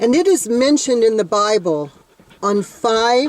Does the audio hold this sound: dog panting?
yes